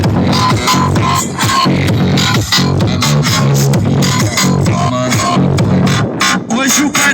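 A Saveiro Cross car sound system with an HD 3000 amplifier, one battery and four 700-watt Ultravox speakers blares music loudly outdoors in the wind, with dense, continuous bass-heavy beats and vocals.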